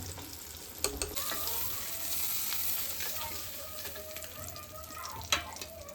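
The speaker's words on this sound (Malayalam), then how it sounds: "അത് നമ്മുടെ അരപ്പ് ഇവിടെ തിളച്ച് വന്നിട്ടുണ്ട്" Masala paste for fish curry bubbling in a pan, a steady close simmering hiss with a few sharp clinks or pops, no voices.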